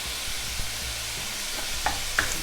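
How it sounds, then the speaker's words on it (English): Ground beef browning in a pot for stuffed pepper soup while a utensil breaks it up: a low, steady sizzle runs throughout, with soft scraping and stirring clicks and a couple of sharper taps near the end. "I'm just going to break that up while it browns"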